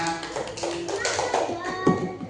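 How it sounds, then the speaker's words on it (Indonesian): Children clapping in a classroom during a maths lesson, quick taps and claps mixed with kids' chatter and voices throughout. "Tepuk tangan untuk kita semuanya."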